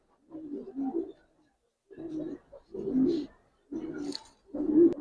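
A big female Giribaz pigeon in a loft gives several low, throaty coos in separate bursts, close by with quiet pauses between.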